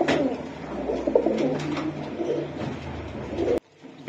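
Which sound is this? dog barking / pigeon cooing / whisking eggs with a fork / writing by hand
pigeon cooing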